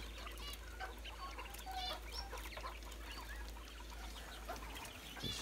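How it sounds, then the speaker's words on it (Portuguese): Quail chicks and adults in a pen chirp and cluck in a dense, continuous chatter, close by, with a steady low hum underneath. "as codornas estão todas aqui. Algumas eu já vendi. E restou essas, que tá os filhotes"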